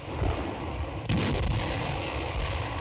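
Wartime newsreel battle sound of artillery and anti-aircraft guns firing against attacking tanks, a dense continuous rumble of distant and near blasts with a louder burst partway through.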